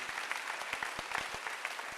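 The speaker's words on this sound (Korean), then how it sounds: "박수하세요" A church congregation claps during a Sunday worship service, many hands striking in a dense, lively patter with sharper individual claps standing out, no voices heard.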